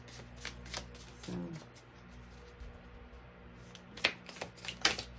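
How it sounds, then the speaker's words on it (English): A tarot deck that has never been drawn from is shuffled quietly up close, with soft riffling early on and sharper papery snaps toward the end. A voice speaks briefly. "I've never pulled a card from this deck yet."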